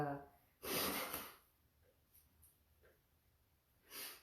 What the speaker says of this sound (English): excuse me for blowing my nose on camera